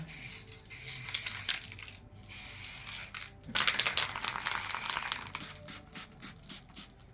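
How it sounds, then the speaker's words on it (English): Short hissing bursts from a spray paint can, several sprays in a row with brief pauses between, close by and fairly quiet. "Where's the white spray paint?"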